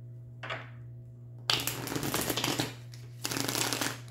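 Tarot cards being shuffled and pulled: a brief riffle near the start, then two longer bursts of rapid papery shuffling, close and fairly loud, against a steady low hum.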